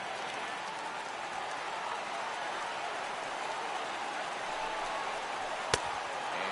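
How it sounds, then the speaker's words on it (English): Baseball crowd in MLB The Show 18, a small but vocal stadium crowd rising to its feet, a steady wash of cheering and applause that holds throughout, with a single sharp knock near the end. "Now this small but vocal crowd come to their feet."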